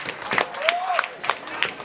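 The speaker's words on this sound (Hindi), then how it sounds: "बहुत अच्छा तालियां लगा है" A crowd at a local wrestling show claps in irregular bursts, sharp hand claps rising and falling, while a voice rises in pitch and shouts over the applause.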